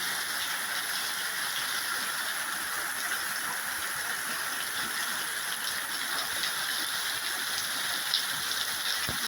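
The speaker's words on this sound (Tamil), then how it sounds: "குறைஞ்சோண்டு போகுது மழை விடுற மாதிரி தெரியலை" Steady rain falls in Jaffna, a continuous even hiss of drops with no pauses or voices.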